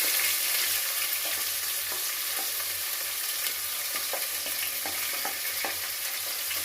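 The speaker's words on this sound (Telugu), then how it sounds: "ఇప్పుడు ఉల్లిగడ్డ వేస్తున్నాను" Chopped onions drop into hot tempering seeds already browned in oil in a pan, cooking for a fenugreek-leaf and moong dal dish; a steady, close, crackling sizzle and fry continues throughout with no voices.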